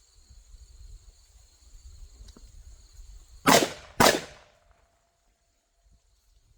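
Two sharp gunshots, about half a second apart, fired at targets during Oklahoma ZERT tactical training, loud and close against a quiet outdoor background of insect chirping.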